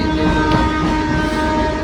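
Steady rumbling of a train in motion, with a constant low drone and faint mechanical tones, continuous and fairly loud with no voices.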